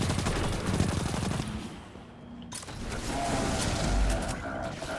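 Rapid bursts of automatic gunfire in the shooter game Destiny 2, dense clattering volleys that dip briefly into a near-silent gap before another round of firing resumes.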